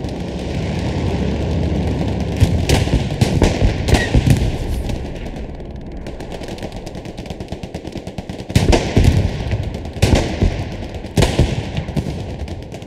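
In the Hell Let Loose war game, a Puma armoured car shells the front line: rapid bursts of loud automatic cannon fire crackle over a constant battle din, pausing briefly between volleys.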